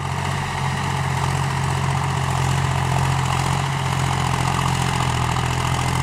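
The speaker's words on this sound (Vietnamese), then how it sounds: "Năm 30 sử dụng động cơ John Deere 3029 3 máy Vitam 106 công suất 53 HP." A John Deere 3029 three-cylinder 53 HP diesel engine on a tractor idles steadily, a loud, even low rumble with a constant hum, heard up close and without voices.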